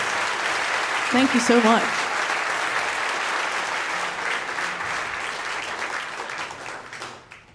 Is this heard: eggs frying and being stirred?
no